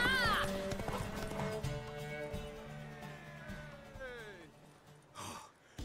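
A horse whinnies loudly up close in a video game, its neigh trailing off, while hooves clop steadily beneath; a second shorter whinny and a snort follow.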